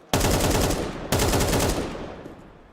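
Rifle gunfire from a Counter-Strike esports match, heard as two loud sustained bursts of rapid automatic shots, the second starting about a second after the first and trailing off into a fading echo.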